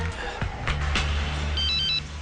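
A telephone rings with a repeated electronic trill during an indoor TV drama scene, loud and close, with a couple of sharp knocks before it and a faint voice in the background.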